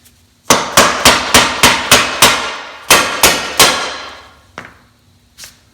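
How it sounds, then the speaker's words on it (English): A string of loud metallic hammer blows on a car oil pan stuck by its gasket, about a dozen in a fairly even rhythm with a short pause, then two fainter knocks, close by. "I am ready to now basically chock it with a hammer and release the sticky oil pan gasket"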